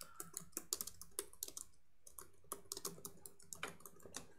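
Keys clatter on a computer keyboard in quick, uneven bursts of soft clicks with a short pause midway, quiet and close in a still room.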